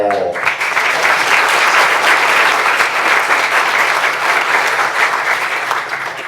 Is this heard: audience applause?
yes